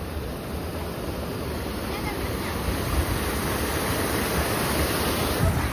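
Floodwater rushing past in a constant broad roar, loud and unbroken throughout, with no clear voices.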